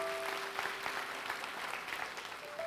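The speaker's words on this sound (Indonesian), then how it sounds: "Kasih tepuk tangan bagi Tuhan." Church congregation applauding during an Indonesian sermon, a steady wash of clapping that holds at a moderate level throughout, with a faint sustained tone underneath.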